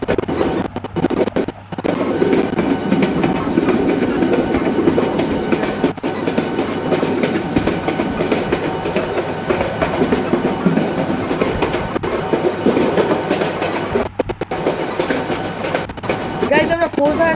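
Meghna Express running in the game Train Simulator Bangladesh between Chattogram and Sitakunda, with a steady, loud rumbling clatter of wheels on rails throughout and someone talking over it.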